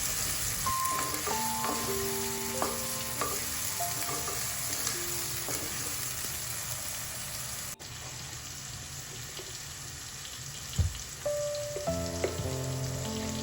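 Shallots with a pinch of salt sauté in a pan for a Kerala-style ghee rice and chicken curry, giving a steady, close sizzle under soft background music, with an occasional stir.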